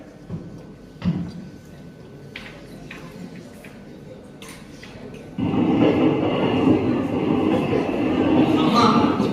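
A train rumbles along with a few clicks and knocks, then the roar grows louder and fuller as it picks up, steady and close.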